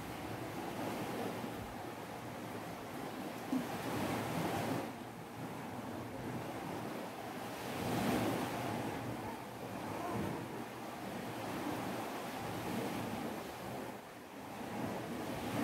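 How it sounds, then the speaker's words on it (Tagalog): Waves wash against the shore in slow surges, a steady rushing backdrop with some wind noise, fairly quiet and without voices. "Naririnig niyo yung background natin is dagat po yan"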